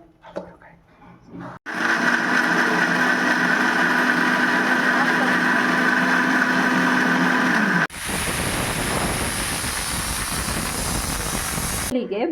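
Kitchen mixer grinder whirring as it grinds coriander and curry leaves, a loud, steady motor drone running for several seconds, then shifting abruptly to a harsher, hissier pitch before stopping; someone speaks briefly at the start.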